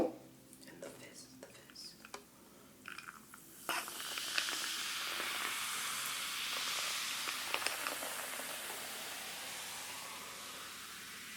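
A freshly opened carbonated drink fizzes up close, a bright steady hiss that swells after a few faint clicks and handling sounds and then continues softly and evenly.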